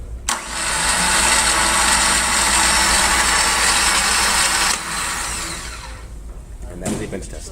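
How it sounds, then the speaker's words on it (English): A starter motor on a bench test whirs loudly and steadily for about four and a half seconds, then winds down. A short burst of mechanical noise follows near the end. "it's going to close the solenoid to allow power to pass straight on down to here into the starter motor. So start turning over here"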